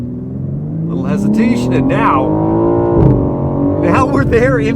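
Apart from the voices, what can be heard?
BMW M4 Competition launch control acceleration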